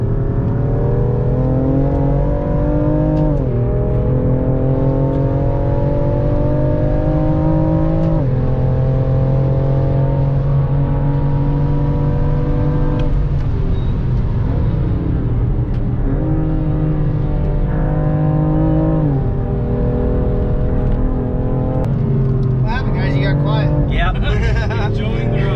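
A BMW M2 lapping a private race track at INDE Motorsports Ranch, its engine droning loudly and rising and falling through repeated gear changes, with people talking over the constant in-car roar.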